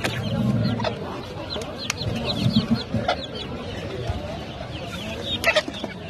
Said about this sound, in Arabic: هاي الدجاجة هي وفراخها